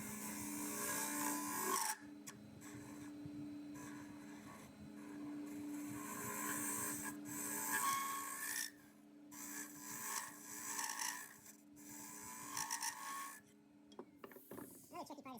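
A colorful wooden goblet turns on a lathe while a spindle gouge or bowl scraper cuts it, giving a continuous close scraping rasp over a steady motor hum, broken by a few brief pauses.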